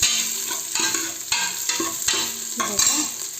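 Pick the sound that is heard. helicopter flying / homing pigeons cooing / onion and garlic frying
onion and garlic frying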